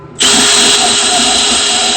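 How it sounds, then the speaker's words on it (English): A power drill grinds the head off a stuck bolt on a 1982 Volkswagen Rabbit 1.6D. It spins up sharply after a short pause and whines loudly and steadily, close to the microphone, with no talking. "I kept on drilling at the head until there was basically nothing left of it."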